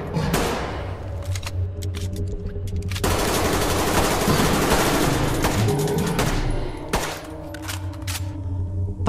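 Sustained bursts of rapid gunfire crackle loudly for several seconds, a dense volley of shots with thuds, then sparser scattered shots toward the end, no voices, in a horror story scene of a battle against evil spirits.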